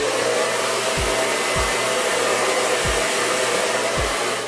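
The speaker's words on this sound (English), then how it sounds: "Next you want to get your blow dryer." A blow dryer runs at close range, heating and styling curtain bangs, a loud steady whooshing roar. Several low thumps of handling break in at intervals, with no talking.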